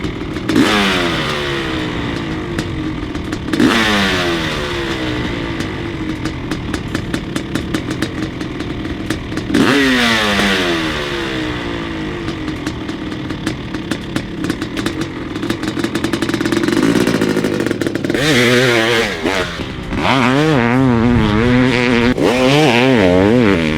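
A 2006 Honda CR500AF dirt bike being ridden: loud, close engine revving in repeated rising sweeps with shifts and throttle bursts, roaring steadily without any talk.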